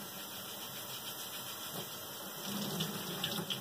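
Steady rushing of running cold tap water, continuous and close, growing slightly fuller and splashier toward the end.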